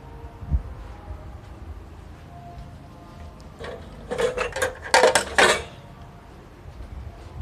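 Metal spatula scrapes and clatters in a pan as stir-fried minced pork with basil and bamboo shoots is scooped out to serve, a burst of clinks and scraping after a quiet stretch, close and fairly loud.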